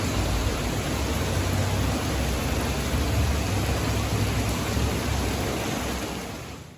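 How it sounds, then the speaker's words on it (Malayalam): Heavy, steady rain pours down as a dense, unbroken hiss, easing off slightly at the very end. "മഴയാണ്."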